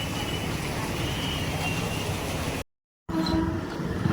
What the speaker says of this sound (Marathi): तेव्हा दुसरी ट्रेन आली